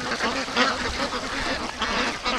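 A flock of free range ducks at a lake quack continuously in a dense, overlapping chorus, close and fairly loud, with no pauses.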